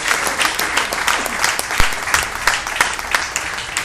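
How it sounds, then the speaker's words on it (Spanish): A church congregation at Nueva Canaán breaks into loud, sustained applause, dense clapping with a few sharper claps standing out, close and steady for the whole stretch. "Den un aplauso fuerte al Rey de Reyes y Señor de Señores."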